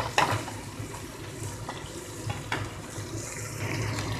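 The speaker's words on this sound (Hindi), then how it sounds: "साथ में इसको भी भून लेंगे मटर को।" Green peas frying and being stirred in a pan while making poha, a steady low sizzle with occasional scraping clicks of the spoon, close up and alone without talk.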